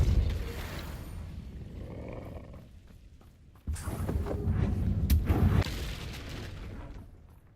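Confringo and Depulso spells cast in the Hogwarts Legacy video game, heard as a rumbling magical blast that fades, then a second louder roaring burst with crackling, no talk.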